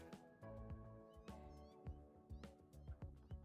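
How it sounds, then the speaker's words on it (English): Cats meow inside the Satisfactory game world, several short cries rising over a busy bed of repeating tonal game music and clicks, faint and somewhat distant. "The cats are getting louder. Meow. Cats are getting very loud."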